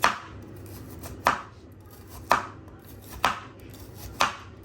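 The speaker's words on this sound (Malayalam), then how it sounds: "ഈ പാവയ്ക്കയെ നമുക്ക് വട്ടത്തിലൊന്ന് അരിഞ്ഞെടുക്കാം." A knife chops a bitter gourd into rounds on a cutting board, with five crisp, evenly spaced cuts about a second apart, close and clear, with no talking.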